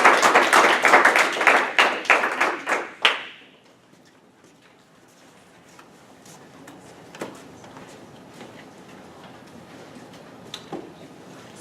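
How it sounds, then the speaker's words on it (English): A short burst of audience applause follows a student presentation, made of a few close, distinct claps that stop abruptly after about three seconds, leaving a quiet room with faint scattered taps. "Everybody, let's give her a warm round of applause."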